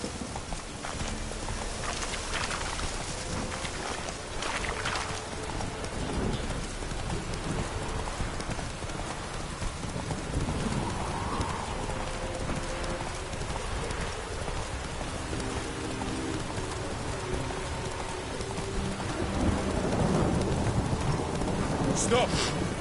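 Roach, the horse in The Witcher 3, clip-clops at a steady pace over wet ground through steady rain, with game music and a voice speaking intermittently on top.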